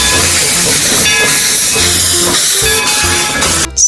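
A toy classic steam locomotive gives a loud, continuous hissing steam sound with a whistle-like tone, steady for several seconds before cutting off abruptly, with no talk over it.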